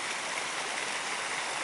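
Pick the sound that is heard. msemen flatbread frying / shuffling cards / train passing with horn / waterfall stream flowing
waterfall stream flowing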